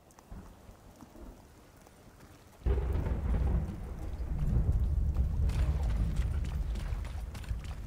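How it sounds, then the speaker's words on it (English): A storm arrives in The Cycle Frontier video game. Quiet ambience gives way abruptly to loud heavy rain with a deep rolling rumble, and the downpour keeps going steadily and close. "And the rain kicked in."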